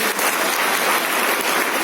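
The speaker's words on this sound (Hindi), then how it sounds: "जोरदार ताली होनी चाहिए" A crowd at a business seminar claps loudly, a dense steady burst of applause that fills the whole moment.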